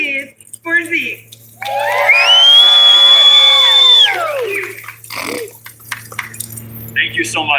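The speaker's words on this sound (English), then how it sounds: "Let's jingle our keys for Zeke." An audience jingles their keys together at a live homelessness fundraiser, a scattered metallic jangle mixed with crowd noise, a loud sustained whoop or cheer and surrounding voices.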